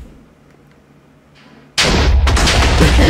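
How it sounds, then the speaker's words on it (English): Minecraft video game explosion: after near silence, a sudden loud blast erupts and its dense roar sustains to the end. "Now let's see the explosion."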